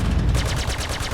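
Rapid bursts of fire from a Gatling gun on a Gladius fighter ship in the Star Citizen video game, a loud, fast, steady rattle of closely spaced shots that begins after a brief lead-in and continues to the end.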